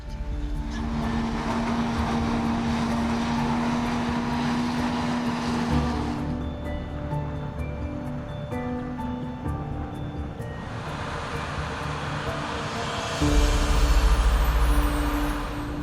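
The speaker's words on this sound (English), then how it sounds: "the sound of the helicopter blades roaring in our ears" Helicopter flying low over the vast Arkansas plains during an aerial hog hunt, a steady, loud broadband roar of rotor blades and engine that holds throughout, swelling louder near the end.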